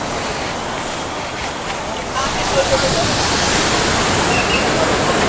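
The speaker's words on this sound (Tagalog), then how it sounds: "Ang lalaki ng mga alon." Large ocean waves break on a beach in La Union, a loud, continuous roar of surf that swells stronger after the first couple of seconds.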